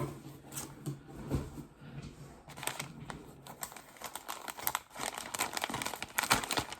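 A plastic bag crinkles and rustles in irregular bursts as a package is unpacked indoors, close to the mic with no talk.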